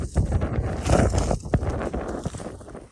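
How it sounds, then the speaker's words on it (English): Wind blows across a wide, treeless field in Florida, buffeting the microphone in uneven, rumbling gusts that swell and ease over a few seconds, with no voices. "It was quite windy here."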